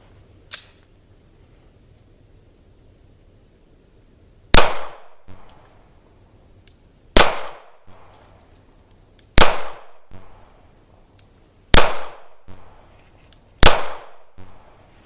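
A Sig Sauer P226 pistol fires 115 grain Remington UMC ball ammunition outdoors in the cold, five loud, sharp shots spaced about two seconds apart, each with a short echoing tail and no talking.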